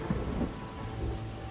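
Heavy rain pours steadily over a Himalayan mountain valley in Himachal while thunder rumbles low underneath, a dense continuous storm wash with no voices.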